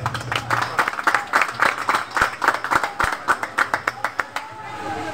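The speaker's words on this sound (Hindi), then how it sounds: "आप सब तहे दिल से खूब जोरों से तालियां से स्वागत करें उनका" Audience clapping rhythmically in unison to welcome a local Congress party president onstage at an Independence Day sari and lungi distribution event, sharp synchronized claps close by with crowd noise beneath.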